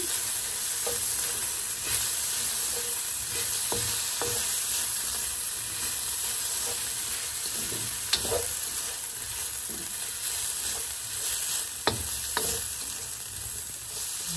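Butter sizzling in a pan of Pinakbet vegetables with tender meat, a steady moderate hiss running throughout with occasional sharp clicks and scrapes of stirring.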